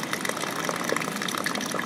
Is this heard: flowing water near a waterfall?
yes